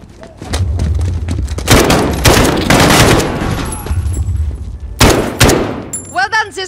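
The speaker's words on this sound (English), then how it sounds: "Point and shoot until they fall." Bursts of gunfire ring out during an ambush of returning guards in Call of Duty: Modern Warfare (2019), sharp repeated shots in loud clusters with pauses between, and a voice briefly heard near the end.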